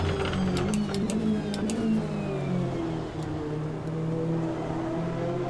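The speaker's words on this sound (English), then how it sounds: "And the Corvette definitely doesn't sound as good as the Porsche." A Corvette race car engine in the racing game Automobilista 2 drones steadily at high revs, its pitch sliding down and then holding in a continuous hum with faint mechanical whine, no voices.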